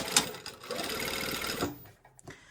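A sewing machine stitches a jeans seam at a 2.5 stitch length, a steady close mechanical whir running for about a second and a half before stopping, with faint clicks afterward.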